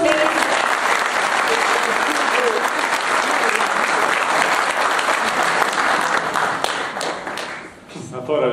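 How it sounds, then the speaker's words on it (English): An audience at a talk breaks into sustained, dense applause, many hands clapping steadily for several seconds before tapering off near the end. "Round of applause, please."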